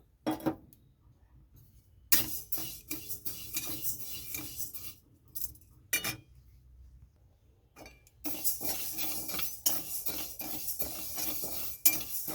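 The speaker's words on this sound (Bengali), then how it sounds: "এখানে আমি ডালটা দিয়ে দিয়েছি ভাজার জন্য" Moong dal dry-fries in a hot kadai for sabudana khichdi, a spoon scraping and clinking against the metal in irregular bursts with crisp rattling grains, broken by short silences.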